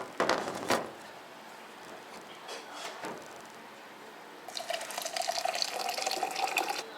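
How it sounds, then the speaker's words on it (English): Hot water pours into a French press of coffee: a few quiet clinks and splashes give way to a steady, close trickle of liquid that builds in the last seconds. "Now we'll put all the water."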